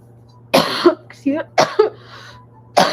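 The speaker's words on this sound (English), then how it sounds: "Excuse the cough." Several harsh coughs from someone recovering from flu come in quick bursts, close and fairly loud, with brief pauses between them in a quiet room.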